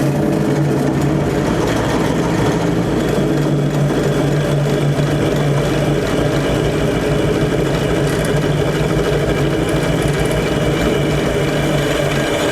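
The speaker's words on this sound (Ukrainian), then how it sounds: "Попробуємо сверлити в тисочках. Мінімальні оберти." A GTM ZJW4116 variable-speed drill press runs at its minimum speed of about 400 rpm with a 16 mm bit. It gives a steady, loud, constant mechanical hum and grind up close, with no voices.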